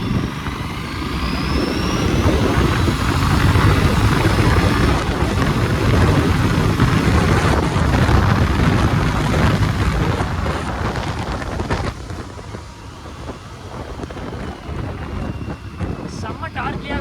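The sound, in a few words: Aprilia RS 457 motorcycle accelerating hard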